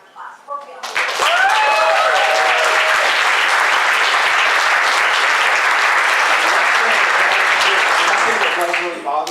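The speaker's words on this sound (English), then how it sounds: "I want y'all to give them a round of applause" Convention audience applause at an anime convention cast reunion panel, swelling quickly into loud, dense clapping and cheering from a large crowd that holds for several seconds before easing.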